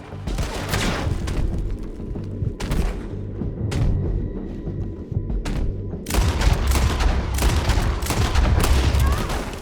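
Sustained gunfire in Red Dead Redemption 2, a dense fusillade of overlapping shots and thuds that grows heavier and louder toward the end, with no talk over it.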